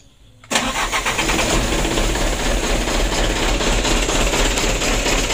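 A Mitsubishi Canter 125 truck diesel engine, one that shakes and is down on power, cranks and catches after a brief pause, then settles into a steady, loud, rough idle close by.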